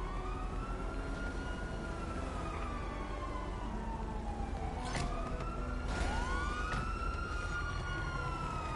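A police car siren in the video game GTA V, wailing continuously with sweeping up-and-down pitch over engine rumble, with other siren tones overlapping toward the end.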